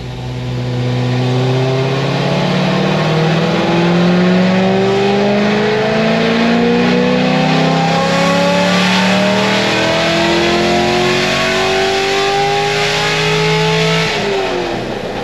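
A Chevrolet Corvette Grand Sport's LS3 V8 pulls hard through a full acceleration run, rising harmonics climbing through gear changes, loud and continuous for about fourteen seconds before lifting off.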